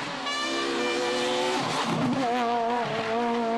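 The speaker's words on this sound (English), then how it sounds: "This is a Super 1600 car." A Renault Super 1600 rally car races on tarmac, its engine revving loud and close with rising and falling pitch through gear changes, with a brief tyre scrub midway.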